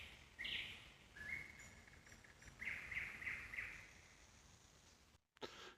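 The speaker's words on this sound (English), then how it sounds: "listen to the screaming birds." Faint high chirps and calls from birds outdoors, scattered over a soft background hiss, distant and thin with no talking.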